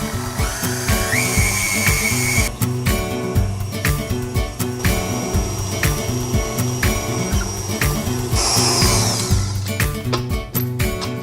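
An electric mixer creams butter and sugar at high speed, a loud pulsing whir with rhythmic beater knocks against the bowl, steady and close.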